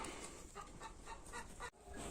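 Chickens clucking softly in short, scattered bursts against a quiet background, with a brief dull knock near the end.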